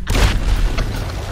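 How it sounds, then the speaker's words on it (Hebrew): A loud, close explosion in the GTA roleplay video game: a sharp booming blast that rolls into a dense, sustained low rumble and debris-like roar lasting over a second. "אתה רוצה עוד פיצוץ?"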